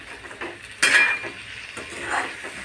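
Sweet raw-mango pickle with sugar is stirred in a pan over a gas flame until the sugar dissolves. A spoon scrapes and clinks against the pan in several close strokes, with a sharper knock near the start and a faint sizzle underneath.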